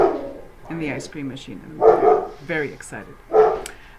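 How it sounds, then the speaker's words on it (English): A dog barks in several quick yips and bow-wows, close by and fairly loud, mixed in with ongoing speech in a home where an ice cream machine is churning. "As you could probably hear, that is my dog"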